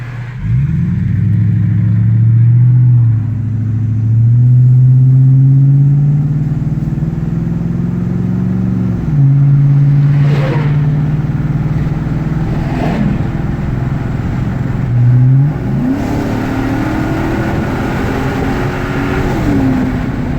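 Ford Super Duty truck with a 6.2 engine and 4-inch Flowmaster exhaust accelerating at normal throttle with windows down, a loud, deep exhaust drone rising through several gear shifts over about twenty seconds.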